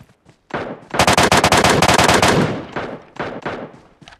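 Automatic gunfire from the mobile game BGMI rattles out in a loud rapid burst of shots, then trails into a few shorter sporadic volleys, close and alone without talk.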